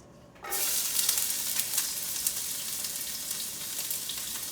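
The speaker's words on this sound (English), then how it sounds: "it's just beginning to smoke a little bit, which is where you want it to be. Add in the onion." Onion dropped into a hot, just-smoking pan sets off a sudden loud sizzle that settles into a steady, close frying hiss for several seconds, with no voices.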